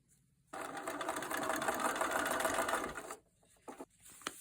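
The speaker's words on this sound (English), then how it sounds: "I'll stitch 1/4 inch seam" Sewing machine stitching a quarter-inch seam through paper-pieced fabric, a steady rapid mechanical whir for nearly three seconds, close and alone, then stopping with a few faint clicks.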